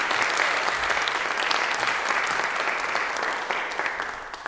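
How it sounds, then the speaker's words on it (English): Audience applause for a pianist at a midday church concert: full, dense clapping that fills the room and tapers slightly toward the end. "Big round of applause for Christopher Devlin"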